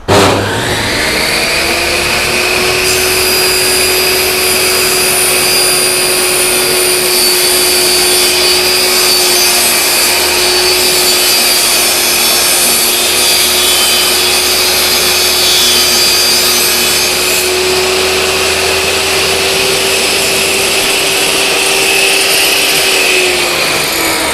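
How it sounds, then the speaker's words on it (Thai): A Stanley table saw cuts an 80 cm length of wood with a vacuum cleaner running for dust extraction, giving a loud, steady motor whine and roar that holds for the whole stretch without pause. "อ่ะเดี๋ยวผมจะซอย 80เซนนะครับ อันนี้ผมใช้เครื่องดูดฝุ่นร่วมด้วยนะครับ"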